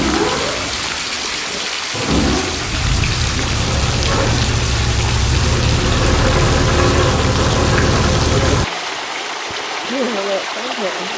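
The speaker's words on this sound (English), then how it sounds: "The skipper is turning the engines off so we can hear the water falling into the fjord." Water cascading down cliff faces into a New Zealand fjord, a loud, dense, continuous rushing roar that suddenly drops away near the end, with a faint voice briefly audible afterward.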